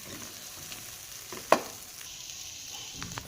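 Moong dal halwa being roasted and stirred in a pan over low heat gives a soft, steady sizzle with one sharp spoon knock midway, close but quiet, and no talk.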